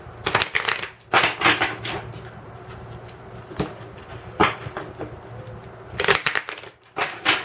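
Tarot cards are shuffled in several quick, rustling bursts, with soft riffling and tapping sounds between pauses, close by.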